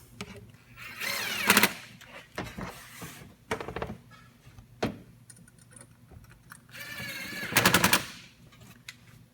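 A power tool drives bolts tight on a 2014-2019 Silverado or Sierra, giving several short rattling bursts of rapid impacts separated by quieter gaps with light clicks and handling noise.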